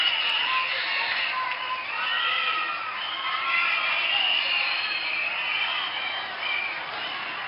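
A large crowd at a rally cheers and shouts continuously, with shrill whistles and high voices rising over a steady wall of noise that swells and dips without pause.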